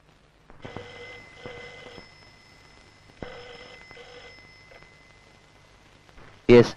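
An old-style telephone bell rings in two double bursts in a quiet room at night, clear and close, followed by a sharp clatter as the receiver is picked up.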